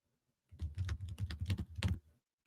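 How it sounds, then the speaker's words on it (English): Someone types on a computer keyboard in a quick burst of clicky, close keystrokes lasting about a second and a half, framed by near silence. "Somebody's typing."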